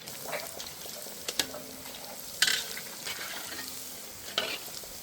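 Small onion vadagam, sun-dried onion fritters, frying in hot oil with a steady crackling sizzle, occasional stirring clinks and scrapes, close and moderately loud, no talking.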